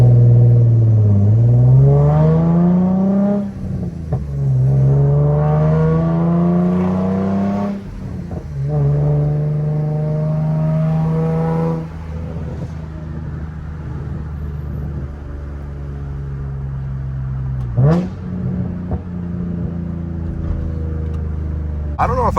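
A Nissan 350Z Nismo engine sounds loud and close, rising and falling in pitch through several revving pulls and gear changes, with the engine drone steady between them.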